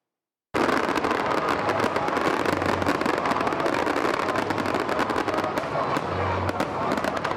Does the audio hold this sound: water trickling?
no